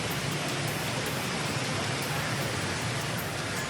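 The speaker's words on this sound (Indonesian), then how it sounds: "Video amatir merekam hujan deras yang mengguyur Kabupaten Jombang, Jawa Timur pada Senin petang" Heavy rain pours down in Jombang, East Java, a dense, unbroken roar of water with no pauses, loud and close throughout.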